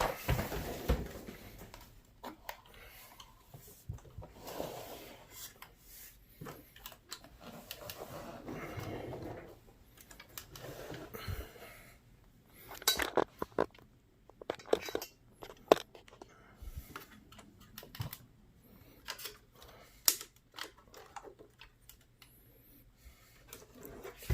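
The small electric winch motor on an HG P602 RC military truck whirs in short intermittent bursts amid clicks and handling noise, fairly quiet and close.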